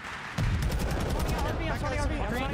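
Dense, rapid video game gunfire bursts in suddenly and keeps going, loud and layered, during a competitive esports match.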